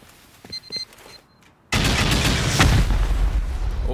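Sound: C4 and rocket explosions raiding a bunker in video game Rust

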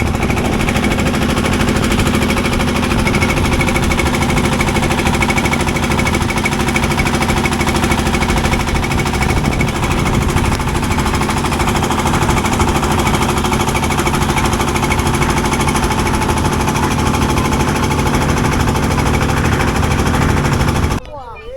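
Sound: motor boat engine on the Meghna river

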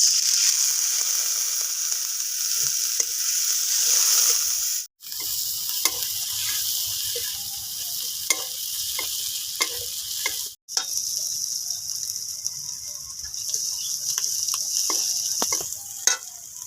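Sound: spice masala frying in a kadai

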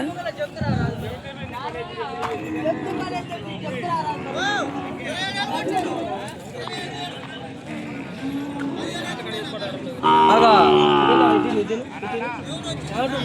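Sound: Ongole calves lowing at a cattle market

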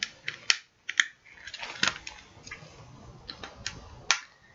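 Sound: tape being peeled off a CD case

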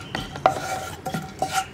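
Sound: stirring spice powders in a pan for egg roast

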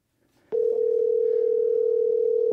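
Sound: telephone call ringing

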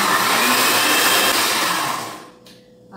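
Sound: electric mixer beating eggs and sugar for cake batter

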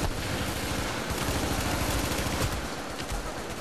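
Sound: gunfire in the video game The Division

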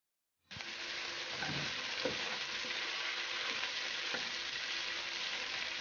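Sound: peppers frying in cooking oil

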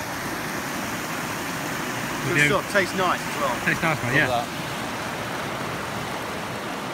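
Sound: stream flowing fast over rocks

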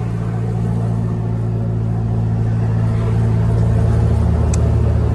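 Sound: car engine accelerating in fifth gear with turbo boost

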